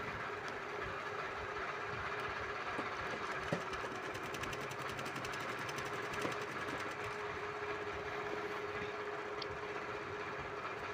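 A sewing machine stitches a blouse with a continuous, quiet mechanical whir and fine rapid ticking, steady throughout with no pauses.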